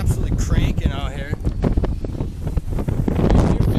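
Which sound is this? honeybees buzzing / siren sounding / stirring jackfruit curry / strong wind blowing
strong wind blowing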